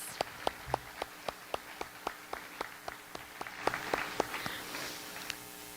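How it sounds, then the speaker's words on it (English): Sparse, evenly spaced hand claps sound at a high school career technical awards ceremony, sharp distinct strikes with a steady rhythm rather than a dense ovation, growing slightly fuller toward the end. "So let's give them a round of applause."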